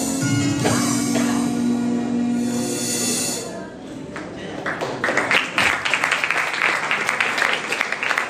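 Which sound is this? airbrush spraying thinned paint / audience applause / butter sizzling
audience applause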